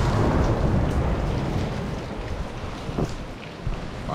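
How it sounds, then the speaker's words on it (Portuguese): Water runs and drips down the rock inside the weeping sea cave at Sununga beach in Brazil. It sounds like a loud, steady, rain-like rush with a deep rumble and occasional drips, and no one speaks. "A água escorrendo pela pedra aqui, ó."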